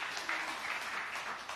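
A church congregation applauds in a dense, continuous burst of clapping from many hands, moderately loud and heard alone for a brief moment.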